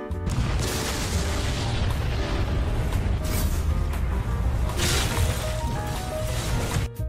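The 4-Fold Flash Strike ultimate move in the Strongest Battlegrounds video game fills the clip with loud, nearly continuous booming impacts and crashing hits that pile on one another for several seconds, with no talking.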